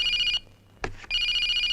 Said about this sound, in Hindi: उसी का फोन है।